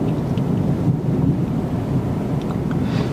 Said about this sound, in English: you are hearing thunder as well